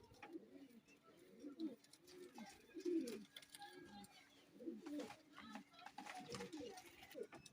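Young pigeon chicks coo in soft, low repeated murmurs at irregular intervals, faint and close, while people talk quietly in the background.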